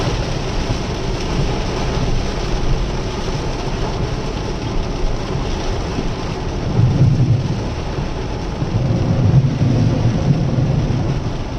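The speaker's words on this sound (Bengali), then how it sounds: "অনেক বৃষ্টি হইতেছে, অনেক।" Heavy rain pouring over Bashundhara, a steady dense hiss with low rumble throughout and slight swells in intensity, no voices.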